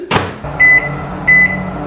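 A microwave oven is switched on to cook chickpeas covered with paper towels: a door clunk, then two bright electronic beeps over the steady low hum of the running oven.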